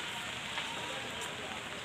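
Steady rain hisses and patters on a surface at the Kingdom of Stone in Baguio City, a dense, constant wash of drops close by.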